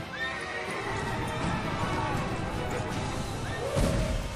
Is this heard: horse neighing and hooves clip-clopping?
yes